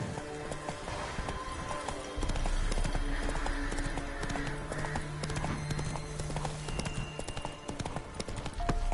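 Horse galloping in The Witcher 3, with rapid rhythmic hoofbeats clip-clopping close and steady throughout, and a brief whinny amid the running.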